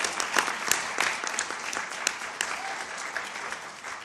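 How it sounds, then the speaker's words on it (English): An audience at a UN campaign launch applauds the Under-Secretary General, a dense spread of crisp individual claps, moderately loud and steady throughout. "Let's give another warmer applause"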